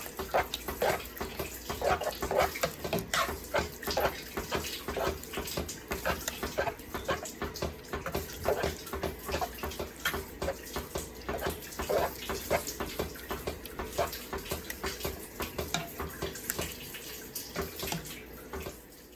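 Goulash with jarred tomato sauce is stirred in a pot, producing a soft, repeated wet sloshing and scraping rhythm that continues steadily for the whole stretch, fairly close but quiet.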